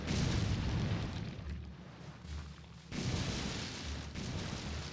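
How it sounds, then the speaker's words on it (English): Distant fireworks sound as muffled booms and rumbling pops in two rolling bursts, heavy low-end thuds echoing from far away with no voices over them. "Yeah, that's probably fireworks, isn't it?"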